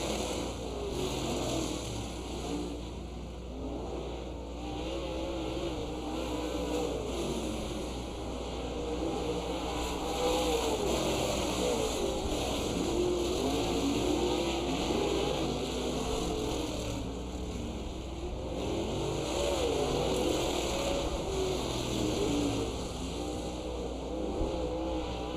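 Race cars at Dixieland Speedway drone steadily around the track, a continuous engine roar with slight swells as cars pass, heard from a distance over a constant background hum.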